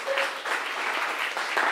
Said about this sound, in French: Oui, on peut encore applaudir